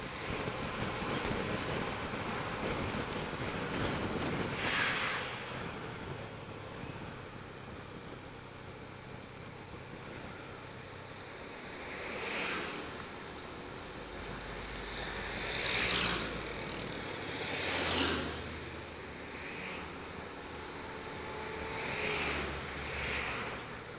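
Surf washing ashore at a beach in Tabanan, Bali, heard as a steady broadband wash with wind noise on the microphone, swelling into several distinct wave crashes spaced a few seconds apart, no voices.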